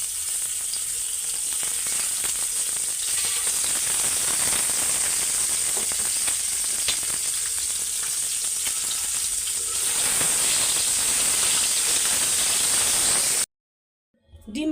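Eggs fry in a pan with a steady, loud sizzle and crackle that runs unbroken for several seconds, then cuts off abruptly near the end, with no talk.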